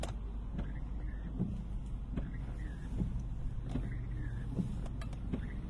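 Cars drive past on a wet road with a puddle in the middle, a steady, fairly faint tyre-and-engine hiss rising and falling slightly, heard from a distance without talking.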